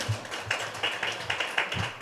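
A small audience at a panel evening in a boutique claps for the host, sparse uneven hand claps at close range, fairly brief.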